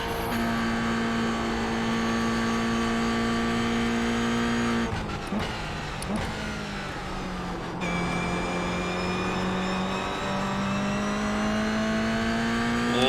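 A Toyota GR86 race car engine in iRacing at Oulton Park drones at steady high revs, dips through a few quick gear changes mid-lap, then climbs again in a loud continuous note.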